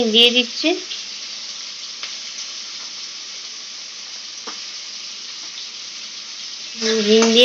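Asafoetida dropped into hot oil sizzles steadily and close for several seconds, with brief bursts of voices at the start and end.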